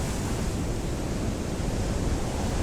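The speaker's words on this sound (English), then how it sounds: "Got to keep an eye out for those waves, otherwise I'm going to get washed off these rocks and into the water" Ocean waves wash against coastal rocks in a constant, close, roaring rush of broadband noise with no speech over it.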